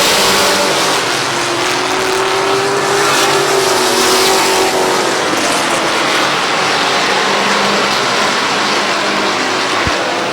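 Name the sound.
race cars racing at a speedway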